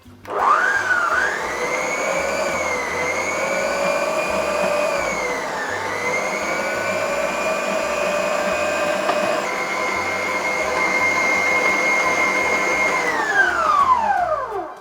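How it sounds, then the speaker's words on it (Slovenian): A stand mixer steadily whirs through gluten-free walnut potica dough made with flour and rum, its motor pitch rising, dipping and holding over about fifteen seconds, loud and close with no talking. "Vse skupaj damo v naš mešalnik,"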